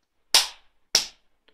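Two loud, crisp hand claps close to the microphone, about half a second apart, each with a short room decay, triggering a homemade clap switch, followed by a faint small click.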